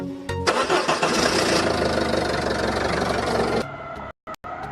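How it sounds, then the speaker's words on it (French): An engine cranks and catches, then settles into a loud, steady running roar for several seconds before cutting off abruptly into brief silence, with a couple of sharp clicks at the end. "on démarre le moteur de notre engin"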